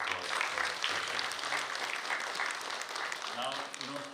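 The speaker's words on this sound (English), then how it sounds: "So a big round of applause for Shiv." Audience applause in an auditorium at the India International Center in New Delhi, a soft, even patter of many hands heard fairly faintly, with a low hum beneath and a murmur of voices toward the end.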